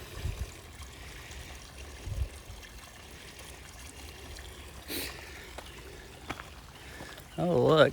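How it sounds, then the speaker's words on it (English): A small creek runs beside a mountain hiking trail, a faint, steady trickle of water with a few brief rustles and a short voice near the end. "I knew I heard running water."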